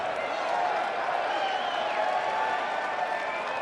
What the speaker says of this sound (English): Kind of a mock cheer after 12 straight balls.